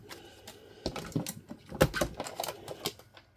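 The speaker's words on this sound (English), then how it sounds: "this is our Creative Memories trimmer for reference. Okay, we're just going to trim that off." A Creative Memories paper trimmer slicing off a strip of paper on a cutting mat, heard as a quick series of close, crisp clicking and scraping taps from the blade sliding along, with no one talking.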